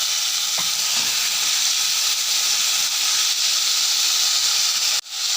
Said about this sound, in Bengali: এইবারে লাউয়ের খোসাটা যেটা ভাপিয়েছি দিয়ে দেব।